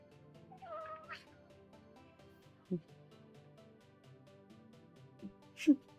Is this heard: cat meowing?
yes